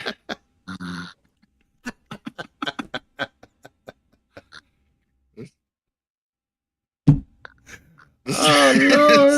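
A sleeping person snores: a low, rough rumble rises near the end and turns into a loud, breathy, drawn-out snort, after a stretch of quiet broken by scattered faint clicks and ticks.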